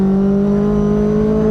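Mazda Global MX-5 Cup race car engine held at full throttle, a loud, steady close-up drone with a constant pitch and no gear change or other sound.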